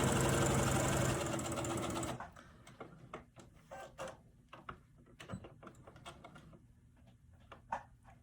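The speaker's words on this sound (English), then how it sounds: "Go ahead and stitch down the other side." A sewing machine runs steadily while stitching down the side of a cloth face mask with ties, a loud continuous burst that stops after about two seconds, followed by quieter handling clicks and fabric rustles.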